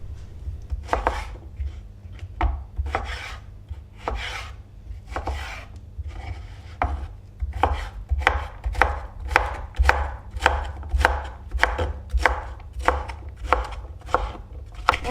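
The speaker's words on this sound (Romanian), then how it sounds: "un ardei capia roșu tăiat în cubulețe, un ardei gras galben tăiat tot în cubulețe" A knife chops red capia pepper and yellow bell pepper into small cubes on a board, a steady run of about twenty crisp, close knocks that speed up into an even rhythm.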